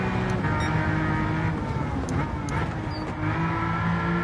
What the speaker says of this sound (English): I will say I also really love how this car sounds.